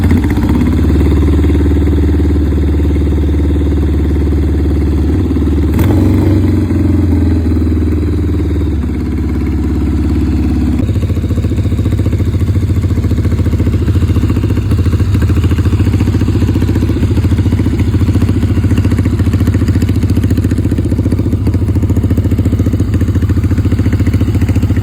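A 1964 Triumph Bonneville T120R chopper motorcycle runs steadily up close, its engine idling with a loud, continuous clattering rumble and a brief sharp blip partway through.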